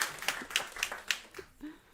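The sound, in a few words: audience applause for the moderator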